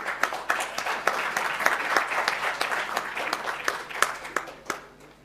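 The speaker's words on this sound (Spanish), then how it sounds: "Un aplauso." Applause from a small audience at a coffee-break talk on transfer pricing in Chile, dense clapping with a few sharp individual claps standing out, fading toward the end.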